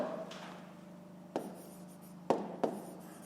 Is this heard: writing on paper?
yes